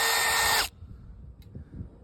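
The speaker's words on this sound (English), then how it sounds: "So we're going to drill these out just a little bit more." A power drill bores holes in brick while a flag pole holder is being mounted, giving a loud, steady whine that cuts off after under a second, followed by faint handling noise.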